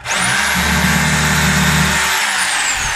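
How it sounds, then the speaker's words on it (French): A power drill bores holes, spinning up sharply and running loud and steady for about two seconds with a whining tone, then slowing as the motor winds down. "Et là, les trous sont faits, donc on va percer."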